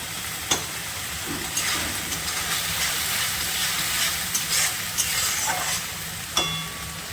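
Masala with ginger and garlic frying in a little oil for a fish curry makes a steady, close sizzle, with occasional stirring clicks and scrapes running through it.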